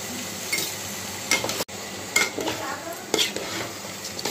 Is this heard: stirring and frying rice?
yes